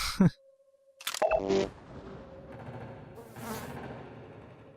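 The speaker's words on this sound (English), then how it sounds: "I did like a randomized fly buzzing sound." Fly buzzing in a video game comes in randomized bursts near a corpse, with a short sharp click and a couple of brief busy buzzes, then a softer fluttering hum settling in at low volume.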